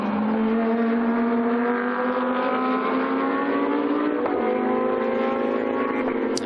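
A Porsche 911 race car in a GT2 series race at Dijon screams past with a loud, sustained engine note that climbs steadily through the gears, a brief shift dip midway, then keeps rising, close and dominant with no voices.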